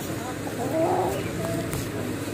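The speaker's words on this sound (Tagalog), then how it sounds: "si Jessie Boy po ay nasa loob ng kulungan ng mga itik at mga manok." Chickens and ducks in a farm coop, with faint clucking and bird calls rising briefly over a steady background hum, close by and not loud.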